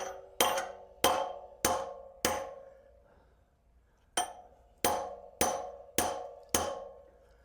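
Sharp metallic hammer blows knocking out a Norton motorcycle front wheel bearing ring out one after another in two bursts of five, evenly spaced with a short pause between, close and loud.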